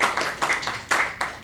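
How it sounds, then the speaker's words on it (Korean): At a Sunday church service, the congregation claps to welcome a missionary: a short, sparse burst of a few hands, with distinct individual claps in an uneven rhythm, moderately near. "우리 박수로 한번 환영해 주시기 바랍니다"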